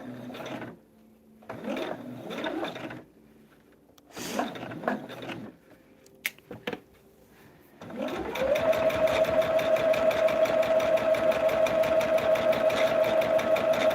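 A sewing machine stitches a table runner along a straight line. It starts after a few seconds of quieter shuffling and handling, then runs at a fast, even, continuous whir to the end.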